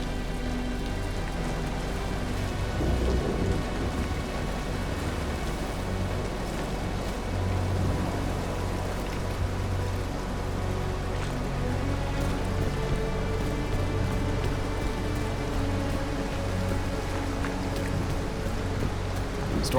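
Steady rain pours continuously at a moderate, even level in a WWI video game storm, with a faint low thunder rumble underneath and no speech.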